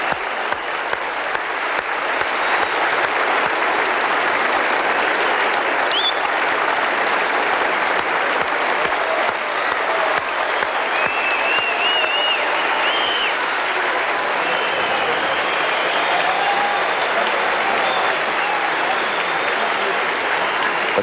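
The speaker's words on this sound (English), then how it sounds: "Crowd rising to their feet now for Dean Lukin, and quite rightly so." A large stadium crowd at the 1982 Commonwealth Games weightlifting in Brisbane gives sustained, loud applause and cheering for an Australian lifter's record total, a dense wash of clapping that holds steady throughout.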